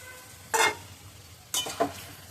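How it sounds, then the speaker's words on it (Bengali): Water poured into a pan of fish and spinach curry, heard as two short sizzling, stirring bursts about a second apart, close and moderately loud, with no talking. "একটু ঝোলের জন্য জলটা দিয়ে দিচ্ছি"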